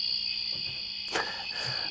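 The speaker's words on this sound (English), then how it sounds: "Do you want to just go out on the cricket sound?" A cricket sound effect keeps up a steady, shrill, high chirring for the whole stretch at moderate loudness, with a brief faint knock or rustle partway through and no talking.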